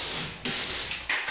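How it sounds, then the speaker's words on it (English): Close, loud abrasive rasping of 180-grit no-fill sandpaper on a pole scraping back and forth across a wet-area ceiling, with a few distinct strokes in quick succession. "we're going to be using sanding these with a 180 no-fill sandpaper"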